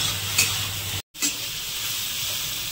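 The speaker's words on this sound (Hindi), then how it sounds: "नमक को हम अच्छे से चलाते हुए बैंगन में मिला लेते हैं" Brinjal frying in a pan as salt and spices are stirred in, a continuous close sizzle and hiss with light scraping, briefly cut to silence once midway.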